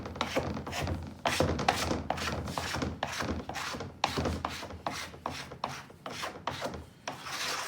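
Contact cement for plastic laminate, already thickened to a gooey consistency, is spread across a surface with steady, repeated rubbing and rasping strokes, close and fairly loud, with no talking.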